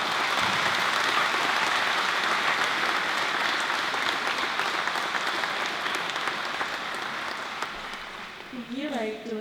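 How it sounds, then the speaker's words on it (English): An audience at a school awards presentation applauds award recipients: dense, sustained clapping from a large crowd that slowly fades, and a voice begins speaking just as it dies away. "Could you please give these students a round of applause?"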